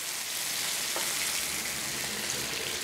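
Tomatoes sizzle and hiss steadily in a hot pan while making eggs in sauce, a continuous frying crackle with a soft clunk as they go in.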